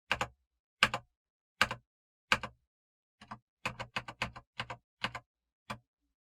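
Tab key on a computer keyboard pressed repeatedly, crisp close clicks, four evenly spaced at first, then a quicker irregular run of about ten more taps in a quiet room.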